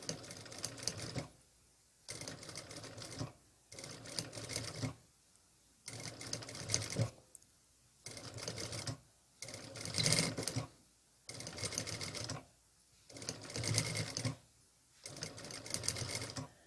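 A sewing machine stitches a quilted vest fabric under its presser foot in repeated bursts of rapid close mechanical chatter, each lasting one to two seconds and separated by short silent pauses, about eight runs in all.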